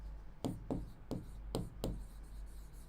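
A teacher writes a word on a board in a vocabulary lesson, giving five separate scratchy strokes in an uneven rhythm over a low steady hum, close and clear with no talking.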